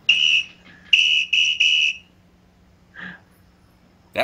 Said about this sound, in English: I thought I found a whistle for sound effects